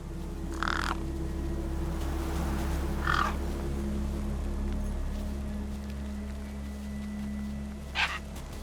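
Scavenging gang birds in the video game Beyond a Steel Sky give three short, separate caws, close by. The calls rise over a steady low ambient hum.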